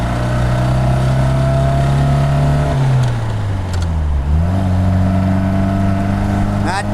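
A 1952 MG TD right-hand-drive export roadster pulls steadily on the road, its engine note climbing, dropping at a gear change near the three-second mark, then rising again, loud and close throughout.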